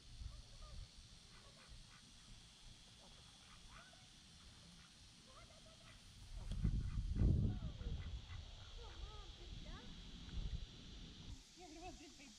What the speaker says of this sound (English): You guys want to see Kayla get bit by some ducks?